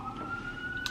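Emergency vehicle sirens wail faintly in the distance on a New York City street, a thin steady tone under low traffic rumble.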